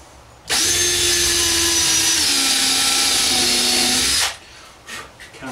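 A power drill drives a 1¼-inch screw into wood while building a DIY travel trailer kitchenette, one loud steady whir of about four seconds whose pitch drops slightly as the screw seats, then stops abruptly and leaves faint handling noise.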